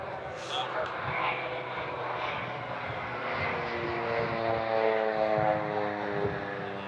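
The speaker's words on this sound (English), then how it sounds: "As soon as somebody starts talking, the plane comes." A fixed-wing airplane drones overhead during an outdoor wedding, a sustained engine hum that swells toward the middle while people talk.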